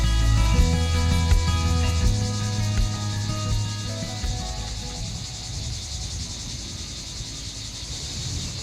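Cicadas sing in a pine forest under an olive tree in southern France, a loud continuous buzzing drone with a steady shimmering texture, while a low humming tone fades out during the first half.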